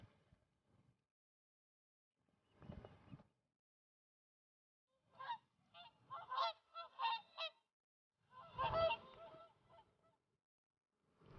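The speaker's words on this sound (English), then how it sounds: "Hooper swans." Whooper swans arriving from Iceland give several honking calls on a wild Scottish island, short bursts and a cluster of bugling notes separated by quiet gaps, fairly near and distinct.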